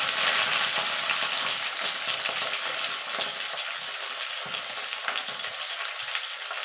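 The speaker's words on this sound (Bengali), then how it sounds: "সিমগুলোকে একটু এপিট করে একটু ভাজা লাল লাল করে ভাজা ভাজা করে নেব" Cut flat beans fry in hot oil with black cumin, giving a dense, steady close sizzle with faint stirring.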